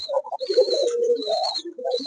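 Fancy pigeons cooing up close, a few soft rolling coos in quick succession, clear and alone without talk.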